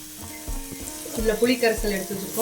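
Drumstick thokku cooking with tamarind water and salt, frying in a pan with a close sizzle and bubbling, stirred with several soft rhythmic scrapes over a brief moment.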